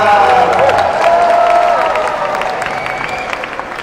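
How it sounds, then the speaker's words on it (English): A conference audience in Amsterdam applauds and cheers loudly for a guest taking the stage, the clapping dense at first and then gradually thinning out. "And big applause for Mr. Patrick Kluivert."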